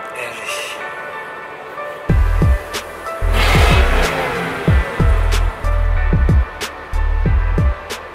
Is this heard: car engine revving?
yes